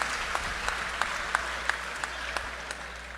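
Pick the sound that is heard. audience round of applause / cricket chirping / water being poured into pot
audience round of applause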